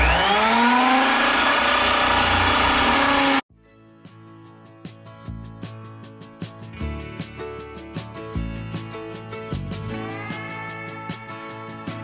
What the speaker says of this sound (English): So we're going to break out the big log saw and get at it.